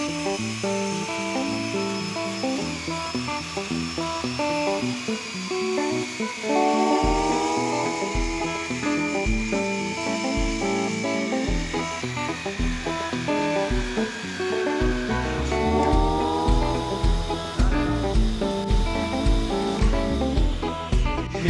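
A saw fitted with a 42-tooth blade cuts through wooden stair treads, its loud sustained whine rising and falling through repeated passes with shifting tonal harmonics across the whole stretch.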